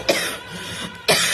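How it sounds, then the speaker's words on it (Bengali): Two separate coughs from a person sick with a cold and fever, the first near the start and the second about a second later, each a sharp, close burst with quiet in between. "অতিরিক্ত কাশি বেড়েছে"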